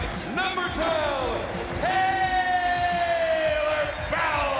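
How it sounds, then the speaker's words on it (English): Basketball arena crowd at a Northwestern Big Ten game, loud, continuous cheering and applause filling the whole space, with shouts and whistles rising over the roar throughout. "Please give a warm round of applause to Nittany Lions senior guard, number 12,"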